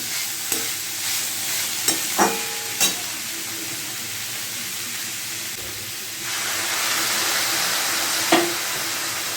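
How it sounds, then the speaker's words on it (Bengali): Banana flower sautéing in a pan for a Bengali mochar ghonto, a steady sizzle and hiss with a few sharp stirring clacks and scrapes, growing louder toward the end. "এটাকে দিয়ে একটু কষাবো।"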